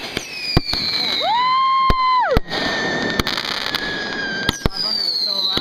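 Fireworks exploding at a summer cottage, several loud sharp bangs scattered through, with high whistling tones rising and falling between blasts while people cheer and talk nearby.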